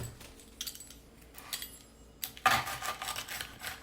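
A knife slicing through crispy air-fried chilli garlic toast topped with cheese, with a few light crunches and scraping cuts, a sharper crackling cut near the end, quiet and close.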